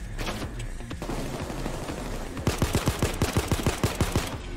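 Rapid gunfire in the PAYDAY 2 heist game, a fast even string of sharp loud shots that grows denser toward the end, layered over background combat noise.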